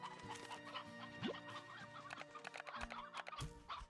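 Chickens clucking in the video game Slime Rancher 2, a busy flock of close, repeated clucks and squawks layered over light background music.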